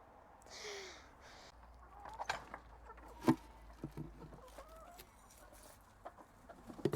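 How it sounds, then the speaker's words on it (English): Hens cluck and squawk intermittently nearby, with a loud squawk midway and scattered rustling and clucks over a low background hum. "Now we are going to feed the chickens"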